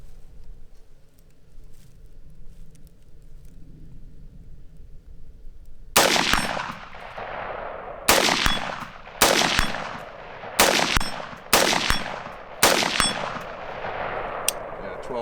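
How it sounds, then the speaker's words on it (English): Rapid rifle shots fired through a 4x20 retro carry-handle scope, each a loud sharp crack with a metallic clang of a hit on steel, six shots in about seven seconds after a quiet stretch of faint background. "I'm firing pretty quickly, but I'm able to make hits with just about every shot"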